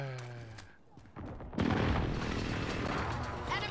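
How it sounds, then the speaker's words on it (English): Call of Duty Modern Warfare precision airstrike: a heavy burst of explosions and gunfire erupts midway and rolls on loud and dense, following quieter game sounds and a brief voice line. "Enemy precision airstrike, take cover!"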